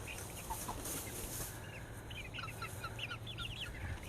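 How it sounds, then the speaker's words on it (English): Roosters cluck in short, repeated bursts outdoors on a morning after rain, with a brief crow-like call mixed in, moderately close against steady background noise. "So far, I think I have 7 roosters"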